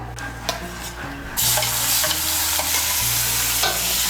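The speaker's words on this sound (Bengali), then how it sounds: "তেলের সঙ্গে মিশিয়ে নিয়ে পেঁয়াজ বাটাটাকে ভেজে নেব।" Onion paste fries in hot oil for Bengali egg korma, stirred steadily: a loud, close sizzle that swells partway through, with scraping stirs over soft background music.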